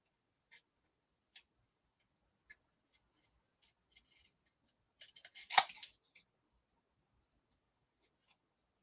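Scissors snip through a paper craft shape in a quiet room, a few sparse isolated clicks followed by a close, quick burst of cuts, all faint with no talk.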